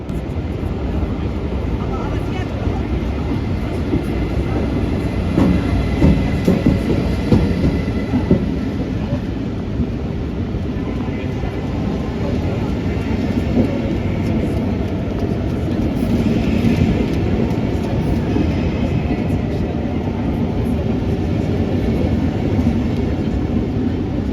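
A train pulls into a platform at Hamburg main station, a broad continuous rumble with faint rail clatter filling the station, steady and fairly near, with voices under it.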